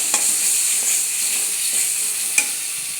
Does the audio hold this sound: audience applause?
no